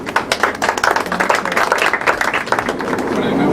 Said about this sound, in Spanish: quisiera pedir un aplauso para él.